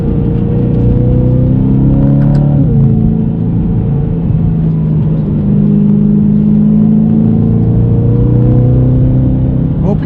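A BMW M3 engine, E92 or E30, drones loudly from inside the car, its pitch dropping and rising through a downshift, a steady throaty rumble with shifting revs that continues throughout.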